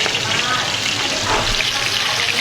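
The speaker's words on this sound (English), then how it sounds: "Just gives them a little dusting coating of flour and then directly into the oil." Flour-dusted prawns sizzle and bubble in hot oil, a loud continuous hiss at a Kerala street food stall, steady throughout with a faint low rumble underneath.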